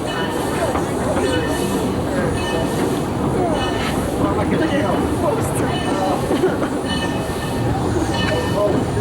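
Rumbling train noise from a real coal-fired steam train in Colorado, a steady dense roar with clanking rail sounds running the whole time, loud and close, with people talking over it.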